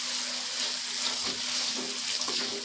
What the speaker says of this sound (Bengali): মশলাটা যেন সুন্দরভাবে কষানো হয়ে যায়, তার জন্য আমি এখানে তেলটা আবারও দিয়ে দিলাম।